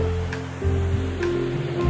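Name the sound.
ocean waves breaking on a Scottish beach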